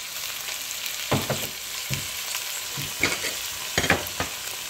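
Onions softened in a pan with two medium tomatoes and finely chopped green chilli for anda bhurji, frying with a steady sizzle while a spatula scrapes and stirs in several distinct strokes, close and moderately loud, no voices.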